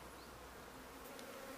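Honey bees shaken from a comb into a nuc hive give off a continuous low, even buzz, quiet and close, with no voices.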